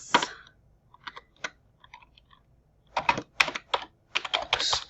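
Fingers type R code on a computer keyboard in quick bursts of crisp key clicks, separated by short pauses, close and fairly quiet.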